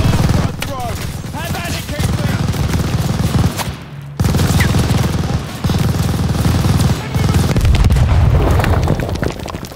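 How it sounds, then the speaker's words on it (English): Heavy machine-gun fire in the Call of Duty Vanguard video game: dense, loud, continuous bursts and booming blasts fill the battle nearly nonstop, with a brief drop just before the midpoint. "Suppress that MG! Unloading on the MG!"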